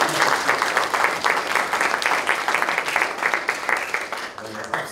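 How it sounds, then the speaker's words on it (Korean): A crowd at a Democratic Party of Korea leadership meeting in Pyeongchang, Gangwon, gives sustained, loud welcoming applause, with thick, even clapping throughout that eases slightly at the end. "다시 한번 큰 환영의 박수를 부탁드립니다"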